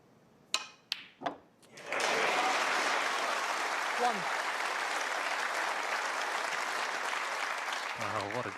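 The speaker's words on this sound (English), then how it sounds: "Applause" A snooker audience at the Tour Championship final breaks into sustained applause after a few sharp ball clicks, a steady, moderately loud wash of clapping that carries on to the end under a brief commentator's voice.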